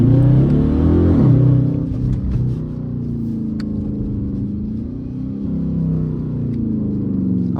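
Dodge Charger RT engine pulling hard under acceleration, a loud, close, deep rumbling rev that climbs and then settles into a steady drone.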